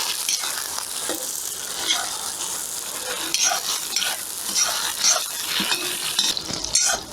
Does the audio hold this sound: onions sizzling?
yes